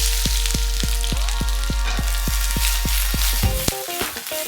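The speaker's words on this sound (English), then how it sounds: "We want to add our onions and our peppers." Onions and peppers hit hot vegetable oil in a pan, giving a loud, continuous sizzle and crackle up close, with a steady rhythmic ticking underneath. Nobody speaks.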